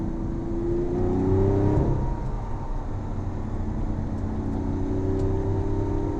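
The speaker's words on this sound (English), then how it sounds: "Now we'll give it a little power. Nice little third gear pull. All of those 12 cylinders are working" A Lamborghini Aventador's V12 engine pulls hard in third gear, a loud continuous drone heard from inside the car with the pitch rising steadily, a brief dip at a shift, then climbing again.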